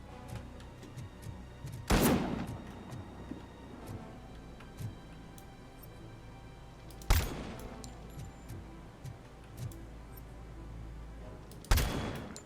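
Sniper rifle fire in Robocop: Rogue City: three sharp, heavy cracks spaced about five seconds apart, each ringing out over a quiet, rustling background.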